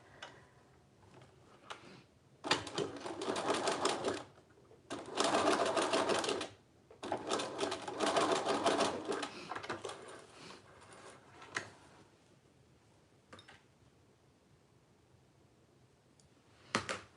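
A sewing machine stitches elastic in three loud, rapid bursts of a few seconds each, separated by brief pauses, followed by quiet handling clicks.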